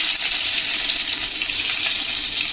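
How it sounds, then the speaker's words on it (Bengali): Chopped ginger and garlic fry in hot oil for a chow mein, a loud, dense, steady sizzle that fills the whole moment without voices. "তেলটা গরম হয়ে গেছে, আমি প্রথমে তেলের মধ্যে দিয়ে দেবো আদা কুচি, রসুন কুচি"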